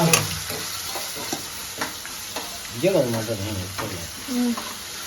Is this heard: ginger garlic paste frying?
yes